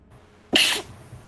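A single sharp human sneeze, close and fairly loud, a short burst lasting about a quarter second, alone against quiet background.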